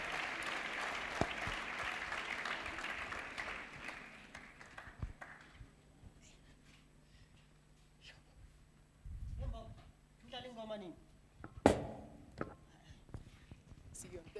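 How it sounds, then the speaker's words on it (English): An audience at a youth week event claps in a warm burst of applause that thins out over several seconds, followed by scattered voices, footsteps and a sharp knock nearby. "Let's give them another round of applause as they take a picture."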